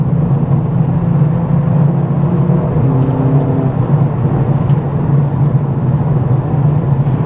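A 2021 Mercedes-AMG CLA45 S engine drones steadily from inside the cabin while accelerating, a deep, loud rumbling hum that holds fairly even throughout.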